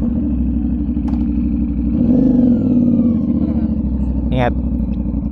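A motorcycle engine idles and revs nearby during a test ride, a low steady rumble that swells briefly mid-clip, while people talk close by.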